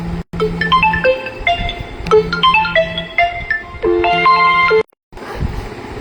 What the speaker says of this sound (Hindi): ध्रुव का फोन आ रहा, देखो।